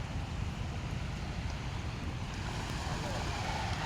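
A small pump boat out on open water, its engine a steady low drone blended with wind buffeting and water wash, continuous and close; a voice talks briefly over it.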